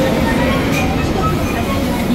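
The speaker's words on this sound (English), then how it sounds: "This is a new train with no driver." Steady rumble and whine of a driverless subway train in motion in Seoul's Gangnam area, loud and enclosed, with a continuous low roar throughout.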